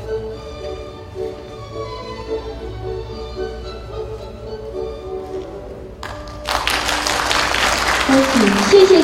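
At an award ceremony, sustained applause from the audience breaks out in the last few seconds, after a stretch of quieter room sound with a tonal hum.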